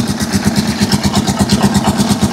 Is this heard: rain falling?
no